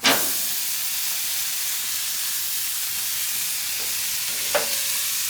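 Steaks drop into a hot pan with a sharp burst of sizzle, then settle into a steady, loud frying hiss, with a faint clink near the end.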